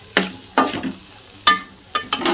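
Chapati pieces sautéed in a pan with turmeric, salt and coriander, with a spatula scraping and tapping in four or five sharp strokes over a light sizzle.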